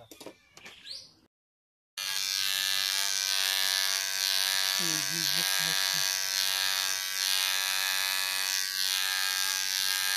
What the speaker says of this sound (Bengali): আমরা মেশিন দিয়ে চুল কাটাচ্ছি